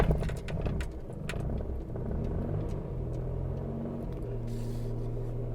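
A 1995 Daihatsu Charade on a rural property is started cold, its small engine catching with a rattle then settling into a low steady idle and rumble as it pulls away, keys jangling early on.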